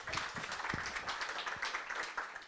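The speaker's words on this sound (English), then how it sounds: "Applause for Timo." An audience applauds after a talk at a seminar, with a faint, distant patter of many hands clapping in a steady ragged rhythm for the whole moment.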